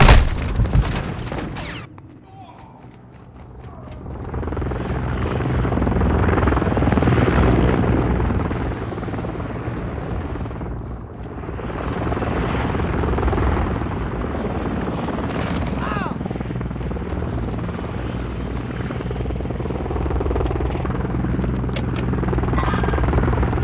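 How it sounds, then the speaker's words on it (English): Helicopter flying overhead in the video game Call of Duty: Modern Warfare II, a loud sustained rotor roar that swells, dips briefly, then returns, with distant booms and gunfire mixed in. "Friendly Overwatch helo in the area."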